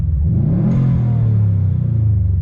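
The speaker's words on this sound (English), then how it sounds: "what happens when I make this blow-off valve go off?" A 2017 Subaru STI engine revs and settles into a loud close rumble, with a short hissing burst partway through as the blow-off valve vents.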